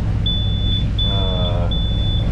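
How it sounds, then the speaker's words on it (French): A collision warning alarm aboard a ship, tracking a vessel on a collision course, sounds as three long steady high beeps with short gaps, over a constant low engine rumble. "on va éteindre l'alarme, ça sera beaucoup plus simple hein"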